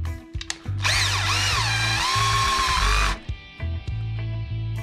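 A power screwdriver set to minimum torque drives screws into a plastic Hobao GTB RC car differential: one close, sustained whirring whine of about two seconds, surrounded by shorter buzzing bursts.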